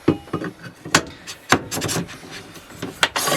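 A table bracket in a converted Ram Promaster van slides into a wall-mounted track, producing short, close scraping slides punctuated by sharp clicks and knocks.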